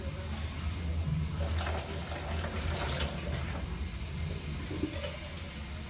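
Tap water runs steadily into a cooking pot in a home kitchen, filling it to boil for ugali; a continuous, even splashing rush close by with no talking.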